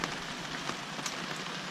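Heavy rain pours steadily onto a sailboat anchored in the Great Wicomico during a hurricane, a dense, even hiss of drops drumming on deck and water with no voices.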